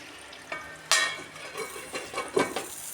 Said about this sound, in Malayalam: ഇതുപോലെ ചെറു തീയിലിട്ട് പൊരിച്ചെടുക്കാം.